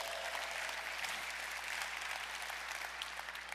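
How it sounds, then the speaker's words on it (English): Steady applause from an audience at an industry keynote, a dense continuous patter of many hands clapping at moderate distance with no talk over it. "Can I get a clap so I can confirm that?"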